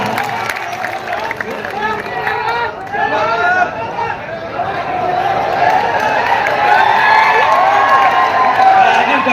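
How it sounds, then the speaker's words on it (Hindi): An audience at a mushaira, a live Urdu poetry recital, bursts into clapping, cheers and excited crowd voices that swell louder and fuller toward the end. "मुझे जोरदार तालियों से साथ दिलाइए"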